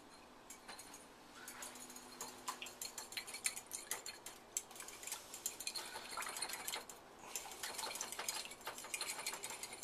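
Fork whisking eggs in a small bowl for an omelette, with a quick, uneven run of light metallic clinks and taps that stays faint and steady throughout.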